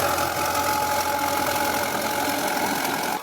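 A tractor tills a dry, dusty field with a rotavator, its engine giving a steady, close, droning rumble throughout the short stretch.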